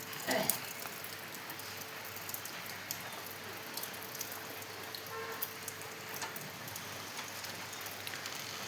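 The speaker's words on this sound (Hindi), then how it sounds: "आज इतनी जोर की बारिश हुई।" Steady heavy rain pattering down on surfaces, a constant broadband hiss with scattered drips, fairly close and continuous with no voices.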